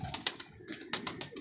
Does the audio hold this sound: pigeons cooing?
yes